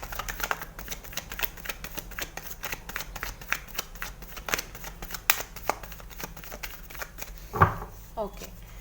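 Tarot cards shuffled and drawn for a weekly reading, a steady run of soft papery flicks and riffles with a few sharper snaps near the end, close and moderately quiet.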